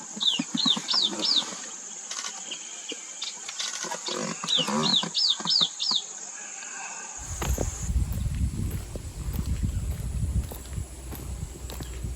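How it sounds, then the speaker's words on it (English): A pair of common babblers chatter loudly in a nearby tree, with quick bursts of shrill, repeated chirps early on, followed by rustling and footstep-like shuffling. "A pair of common babbler were chattering loudly on a tree beside us."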